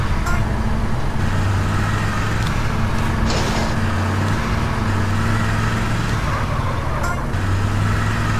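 In GTA San Andreas, a Remington car's engine drones steadily and loudly, its pitch stepping up and down with shifts, under a continuous bed of game road noise.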